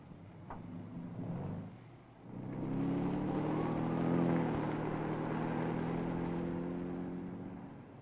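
A stolen 1950s car pulls away, its engine rising to a steady moderate drone as it accelerates and drives off toward a back street.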